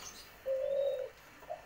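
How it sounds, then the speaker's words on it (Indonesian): White collared doves and spotted doves at a bird farm, with one clear, fairly close coo held for about half a second and a short faint note after it, over soft outdoor background. "puter putih sama tekukur"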